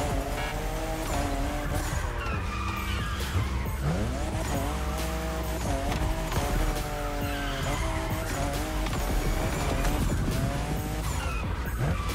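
A Toyota Supra races in The Crew Motorfest, its engine revving up and down through gear changes with repeated tire squeals and skids, loud and continuous.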